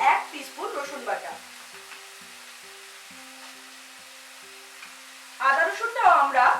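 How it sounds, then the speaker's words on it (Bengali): Onion frying with ginger and garlic paste over medium heat gives a soft, steady sizzle, with a voice talking at the start and again near the end. "পেঁয়াজটাকে মিডিয়াম আঁচে আমি 2-3 মিনিট ফ্রাই করব"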